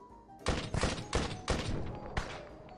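Gunshots in the video game Arma 3: five loud, sharp reports fired at uneven intervals, each with a short, booming tail, and quiet between them.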